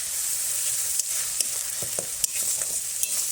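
Garlic paste and ginger paste fry in oil for a fish curry, giving a bright continuous sizzle with periodic scraping and tapping of a spatula against the pan, and no talk.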